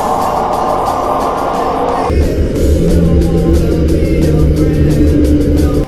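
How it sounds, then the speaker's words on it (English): Mysterious 'Train' sound recorded underwater in the Pacific Ocean: a loud, continuous low rumble with a droning tone that shifts to a deeper pitch partway through and holds steadily to the end. "The train sound was loud enough to be heard across thousands of miles of the Pacific."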